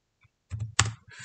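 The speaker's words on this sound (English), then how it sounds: "I'm gonna press enter on my keyboard" A few quick keystrokes on a computer keyboard, a short cluster of close, crisp clicks followed by a louder single press, against silence.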